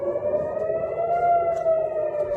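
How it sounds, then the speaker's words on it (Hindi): An air raid siren sounds across Tel Aviv during a missile attack, one loud steady wailing tone holding on its own throughout. "देखिए सायरन बज रही है पूरे टेल अवीव में"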